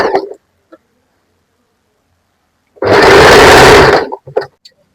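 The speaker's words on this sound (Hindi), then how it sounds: "ऐसे इसको दबाते हुए सिलाई लगा लेनी है" A sewing machine stitches a peplum top in one steady, fairly loud burst of about a second and a half, set between stretches of near silence and a few faint clicks and handling sounds.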